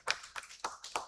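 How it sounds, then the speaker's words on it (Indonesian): A handful of sharp, separate hand claps ring out at a government agency talk show launch, about four distinct claps in a loose rhythm, close and moderately loud. "Tepuk tangan dulu dong untuk talk show hari ini"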